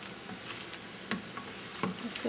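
Steady crackle and sizzle of cauliflower florets pan frying in oil, with occasional brighter pops and spits breaking through the continuous hiss.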